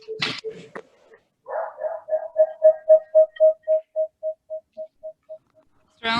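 A dog at a zoning board meeting gives a brief sharp yelp, then a long whining call that starts loud and tapers into fading, evenly spaced whimpers before a short sound cuts in at the end.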